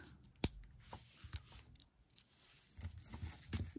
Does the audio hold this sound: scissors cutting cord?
yes